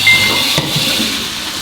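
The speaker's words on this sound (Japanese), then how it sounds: "トマトが、火が 入ってジュクジュクとしてきたところでお醤油を入れます" Soy sauce hits bubbling fresh tomato sauce in a pan, giving a steady, close, loud sizzling hiss with a faint clink early on.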